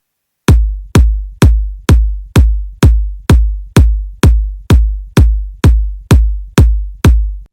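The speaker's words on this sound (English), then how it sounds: "Now time to make drum pattern. Kick." Electronic house kick drum programmed in FL Studio, a steady four-on-the-floor run of about fifteen deep, punchy thumps with short booming tails, loud and alone.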